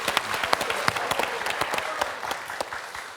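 Studio audience at a French quiz show breaks into steady applause, a dense wash of many hands clapping at an even level from start to finish, with no talking over it.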